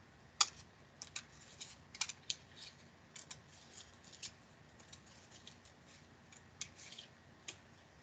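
Scissors cutting a sheet of paper in half for a leaf craft, faint scattered snips and clicks at an uneven pace, close but quiet with no talking.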